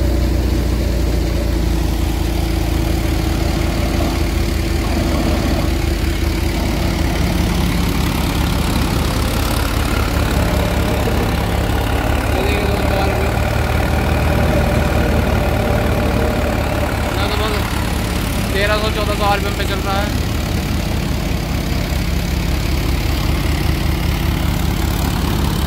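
An Arjun 555 tractor engine runs a thresher outdoors with a steady, heavy droning rumble that continues without a break, and a few faint squeaks rise briefly near the end.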